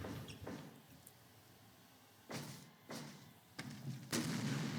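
Explosions in a Fire Pro Wrestling video game match sound as several dull booming bursts over a constant low rumble, spaced about a second apart and growing heavier toward the end.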